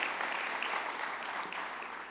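An audience at a college plenary session applauds for the staff, with steady, dense clapping from a sizable crowd throughout.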